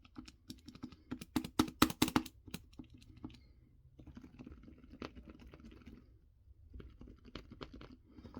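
Quiet key taps on a Logitech K295 Silent Touch wireless keyboard, close up, with a denser burst of sharper clicks early on, then softer, muffled irregular typing that continues alone.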